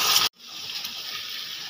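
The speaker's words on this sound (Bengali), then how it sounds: "এবার আমি দিয়ে দেবো অল্প পরিমাণে জল" A small amount of water pours into potol dorma gravy in a pan, a steady close gush with a faint sizzle that follows a brief sharp noise and a short silence.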